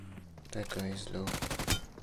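Enemy gunfire in a PUBG match on a glacier map with UMP and M416 rifles: a rapid burst of automatic shots cracks out near the end, following a short stretch of mixed game sounds and chatter.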